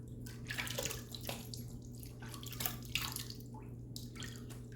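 Water splashes and drips while a OneBlade Core razor is rinsed under a running tap, a close, soft, irregular trickle over a steady low hum.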